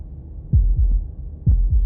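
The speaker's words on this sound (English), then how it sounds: "That was the sound of a heartbeat," A heartbeat sound effect in the video game Slay the Princess: two pairs of deep, thudding lub-dub beats, loud and close, separated by a pause, with no talking.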